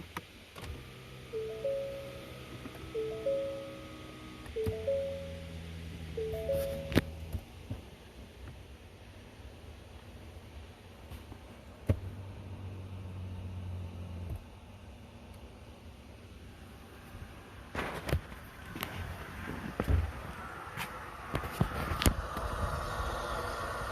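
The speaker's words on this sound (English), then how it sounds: "You can hear all the air running through the system." Air gurgling and ticking through the fuel system of a 2017-or-later 6.7 Powerstroke diesel as it primes after a fuel filter change, with a rhythmic pump whir early and faint clicks in a quiet cab.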